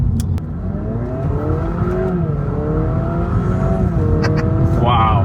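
A new Honda Prelude fitted with an upgraded downpipe and front pipe accelerates hard, its engine note climbing steadily and loudly up close, with a brief voice exclaiming over the rising drone.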